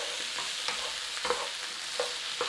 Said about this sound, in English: There's just a little bit of a stir fry on that.